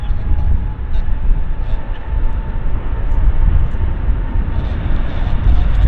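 An Air India airliner, likely at maximum takeoff weight, rolls down the runway at Vancouver airport, a steady loud broadband engine roar holding throughout with no clear talk over it.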